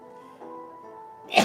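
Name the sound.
sneeze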